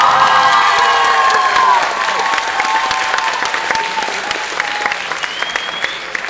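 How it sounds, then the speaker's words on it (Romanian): Audience in a theatre hall, during a live arts show, bursts into loud, dense applause mixed with cheering and shouts, then eases slightly to a steady, sustained clapping. "încă o dată aplauze"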